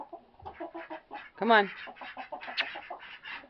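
Chickens cluck close by in a quick series of short calls, one louder squawk in the middle, while a person speaks briefly over them.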